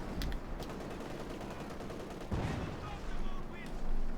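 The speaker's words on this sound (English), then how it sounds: "I think he's firing high explosive shells" A Sherman tank fires high explosive shells in the WWII strategy game Company of Heroes 2, with repeated dull booms and scattered gunfire in a busy battle, under a steady rumble and some talk.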